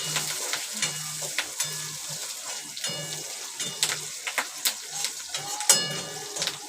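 Bhadang, a puffed rice snack, is roasted and stirred in a pan, a soft dry sizzle under repeated scraping strokes of a spoon against the metal in an irregular rhythm, close and fairly quiet.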